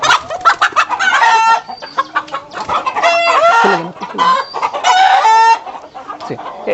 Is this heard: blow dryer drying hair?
no